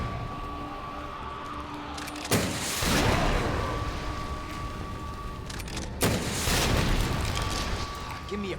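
Two heavy, booming gunshots in Resident Evil 2, spaced a few seconds apart, each loud and close with a long rumbling tail, set against a steady game background.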